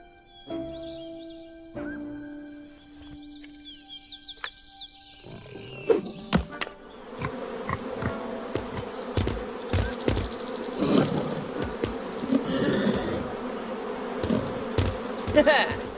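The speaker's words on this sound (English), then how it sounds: "I hope I can get through before the bees return." Insects buzzing around a camp in the video game Lost Lands 9, a dense, steady drone with scattered sharp clicks and knocks, moderately loud throughout after a quieter tonal opening.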